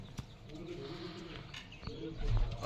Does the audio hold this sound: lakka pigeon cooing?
yes